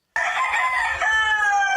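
An Africanized game hen crows once, a single loud, close, sustained call lasting well over a second, standing alone without talk.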